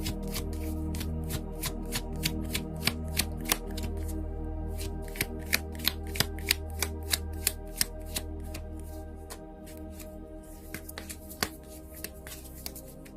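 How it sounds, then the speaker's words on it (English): Tarot cards shuffled by hand in a steady run of sharp riffling snaps over a low background hum, with no talking. "I'm being guided to see if any more cards want to come out."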